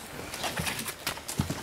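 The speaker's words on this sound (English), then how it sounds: "This is your horse." A horse's hooves clip-clop on the ground at close range, a few uneven knocks over a steady low background.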